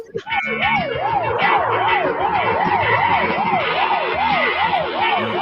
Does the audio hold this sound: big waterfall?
no